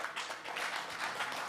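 Audience at a music business conference panel clapping in a quick, dense, steady patter of many hands, fairly close and without talk.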